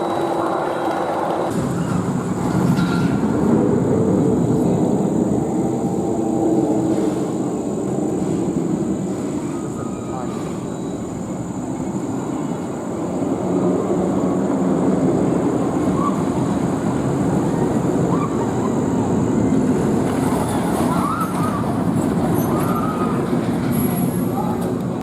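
Phantom's Revenge roller coaster trains at Kennywood amusement park rumble along the track with a sustained roaring, clattering rush that swells and fades over time, heard at moderate distance with faint background voices.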